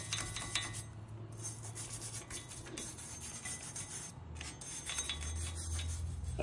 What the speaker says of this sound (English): wire brush and scrub in here